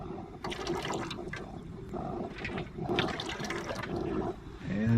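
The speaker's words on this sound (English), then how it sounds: "This is pumping cold water into that boiler." A camp pump pushes cold water from a bucket into a camp boiler, giving a continuous gurgling, rushing flow with uneven surges close by, and a brief low rumble at the end.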